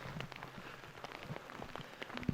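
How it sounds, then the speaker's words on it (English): Rain pattering on the ground and gear during a desert thru-hike on the Guadalupe Ridge Trail, a soft steady spread of drops with scattered faint taps and a louder close tap near the end. "we got blessed with some rain. It's starting to come down pretty good"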